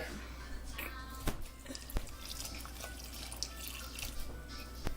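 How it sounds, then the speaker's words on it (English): Milk poured into a snow ice cream mix, a soft liquid trickle with a few sharp drips and clinks close by against steady low background noise. "Pour the milk in."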